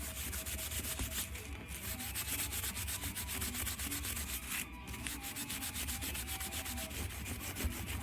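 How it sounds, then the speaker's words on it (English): A Scotch-Brite pad scrubs scale off a copper head gasket with a fast, even rasping rub. The scrubbing runs close and continuous, with no speech. "So I'm just going to take a piece of Scotch-Brite and I'm going to scrub it up."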